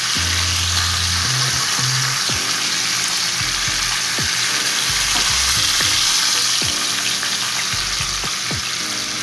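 Fish sizzles and crackles loudly in hot oil, a constant frying hiss with occasional scraping and clinking from a utensil in the pan.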